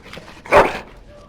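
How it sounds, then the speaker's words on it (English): A dog in the Dragon Age: Origins video game lets out a single short, close bark that rises sharply and fades within a fraction of a second over a quiet background. "Bloody dog."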